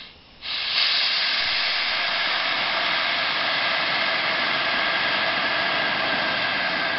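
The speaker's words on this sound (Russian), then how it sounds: "Пара на целый паровоз." A wood-fired steam generator vents a loud, steady roaring hiss of steam that starts abruptly and continues unbroken, close and continuous.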